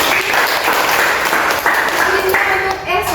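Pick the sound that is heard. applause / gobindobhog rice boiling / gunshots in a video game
applause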